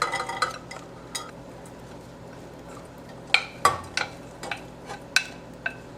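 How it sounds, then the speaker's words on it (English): Pitted, chopped dry dates drop into a saucepan over low heat with a few light clatters and a spoon scraping and stirring, quiet kitchen sounds with no talking. "Let's go ahead and add the pitted chopped dry dates."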